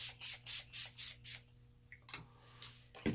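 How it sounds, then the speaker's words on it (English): A rose toner facial spray is misted onto a face in six quick, evenly spaced spritzes, close and crisp, followed by faint handling rustles and a couple of louder clicks. "I'm going to spray my face with my Rose Toner Facial Spray"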